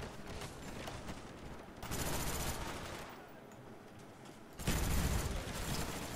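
Gunfire in Call of Duty: Black Ops comes as two dense bursts of rapid automatic shots with shorter pops between, sitting over a constant game background with no talking.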